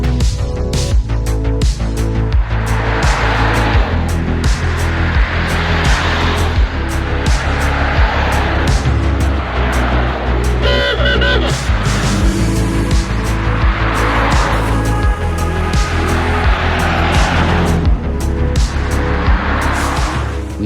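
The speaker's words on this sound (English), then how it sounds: "Gar captured the convoy going past." A convoy of classic cars drives past on a Cumbria tour, loud engines revving and droning close by continuously, with repeated surges as each car goes by.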